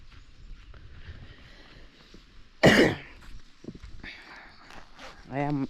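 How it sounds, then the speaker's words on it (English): One sharp, loud cough from a person with the flu breaks through quiet outdoor ambience in a village, followed by softer sounds and a voice near the end. "I am having a little cough,"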